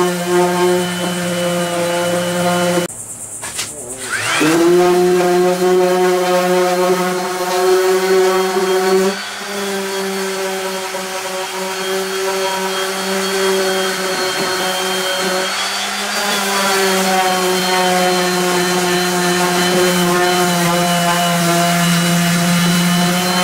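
A random orbital sander with 150-grit paper sands an old wooden dresser, running steady and loud, dropping briefly near the start before resuming its even buzzing drone.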